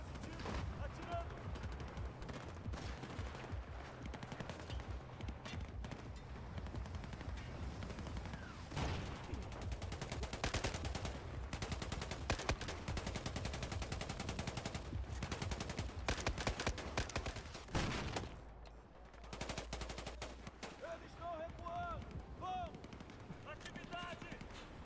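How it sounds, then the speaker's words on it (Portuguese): Sustained gunfire from Battlefield 4, with rapid automatic bursts and heavy shots pounding almost nonstop for the whole stretch, briefly easing near the end, while voices talk underneath. "Positivo, atirando."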